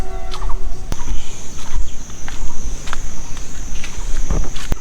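Outdoors in Guwahati near the Brahmaputra river, birds give short intermittent calls over a steady high insect drone and loud rushing wind noise.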